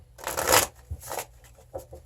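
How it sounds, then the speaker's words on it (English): A deck of tarot cards is shuffled in a few quick riffling bursts, close and fairly quiet, with short pauses between the passes. "Now, I always like to shuffle right before I read."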